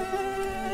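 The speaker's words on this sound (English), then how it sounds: "Then a mosquito flies by, making a buzzing sound." A mosquito flies by with a continuous high, thin whining buzz, steady and fairly close, heard alone in a quiet indoor setting for under a second.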